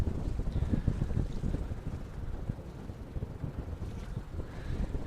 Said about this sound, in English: the wind, it's blowing pretty hard